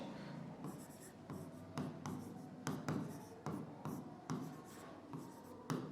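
A pen scratches steadily across paper as exam answers are written out, a dense run of close scratchy strokes broken by brief lifts between words, with no voice over it.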